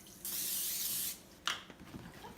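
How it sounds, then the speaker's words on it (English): Olive oil cooking spray hisses onto a pan in one steady burst of about a second, followed by a short second puff and some faint handling noise. "I'm just using an olive oil cooking spray."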